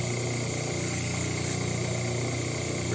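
Steady, loud machine-like whir of sanding on acoustic guitar back braces, a continuous drone with strong low hum and hiss throughout, no talking.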